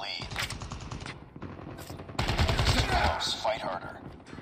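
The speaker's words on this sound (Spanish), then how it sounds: "Han disparado de dos en dos" Rapid automatic gunfire from an AK assault rifle in a Call of Duty Mobile match on the Summit map, loud bursts and sustained rattling fire with a few separate pops, talk faint underneath.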